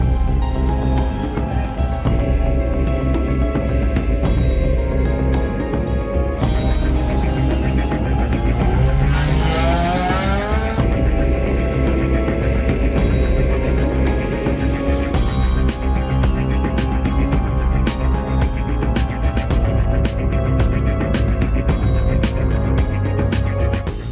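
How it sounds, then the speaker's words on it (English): BMW E46 M3 race car on slick tires at a 24-hour race in Dubai, a loud, continuous engine roar with shifting revs and gear changes, steady throughout. "Driver to driver sits down in the race seat to take the challenging corner combinations under the slick tires of the BMW E46 M3."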